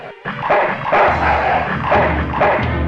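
In the PC video game Full Throttle, a dog barks in several close, loud barks in quick succession over a low rumbling background.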